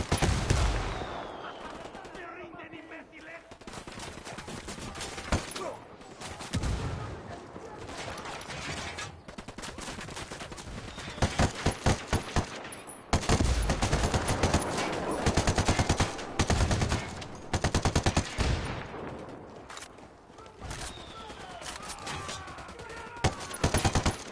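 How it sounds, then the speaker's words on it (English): Rapid bursts of automatic gunfire and scattered shots ring out in a PS4 shooter game, dense and loud throughout, mixed with in-game voices talking. "I'm opening fire on these shitheads."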